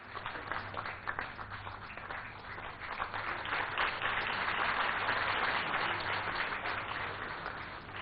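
Sustained applause from an awards-ceremony audience at a sanitation summit, with dense clapping that swells toward the middle and holds steady to the end, with no speech.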